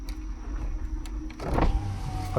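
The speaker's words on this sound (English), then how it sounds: "Put our windows up so you guys can hear me talk." Power windows on a 2024 Jeep Wrangler 4xe Rubicon whir upward inside the cabin over steady low road rumble, the motor strain rising toward the end as the glass closes.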